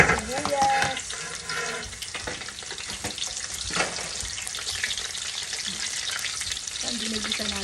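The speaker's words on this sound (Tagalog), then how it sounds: "Ginigisa natin guys." Garlic and onion sauté in a pan for Filipino pancit, a steady close sizzle with scraping stir sounds and a brief tap-water splash, running continuously without talk.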